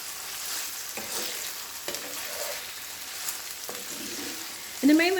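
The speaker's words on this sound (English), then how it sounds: "I'm going to stir this to combine" Onions and peppers fry in a pan over medium-high heat, a steady sizzle broken by several scraping stirs of a utensil, with a sharper clatter at the very end.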